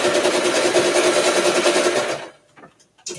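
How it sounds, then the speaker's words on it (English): Sewing machine back stitching in a home sewing session, a fast steady mechanical rattle of the needle for about two seconds that then stops abruptly, followed by a couple of faint clicks. "and I'm gonna back stitch"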